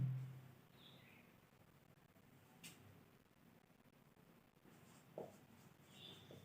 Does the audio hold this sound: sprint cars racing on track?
no